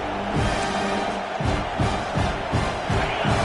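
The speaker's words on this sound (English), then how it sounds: "This crowd trying to make life miserable for this offense." A football stadium crowd at a Tennessee Vols game roars continuously, a dense, loud wall of cheering that swells in rhythmic pulses.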